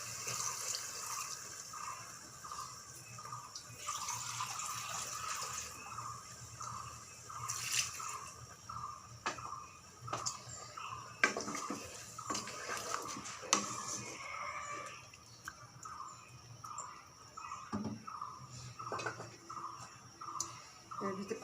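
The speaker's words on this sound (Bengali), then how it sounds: "এবার আমি ঝোলের পানি দিব" Water pours into a pot of winter vegetable curry with lentil dumplings (bori), a continuous splashing wash with small clicks and knocks, fairly close and moderately loud.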